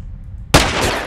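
A single sharp, loud gunshot in a video game, a sudden close blast after quiet, its noisy tail ringing out for half a second with no talk over it.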